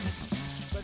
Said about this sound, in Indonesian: goreng-goreng gurame yang udah dibersihkan dulu guys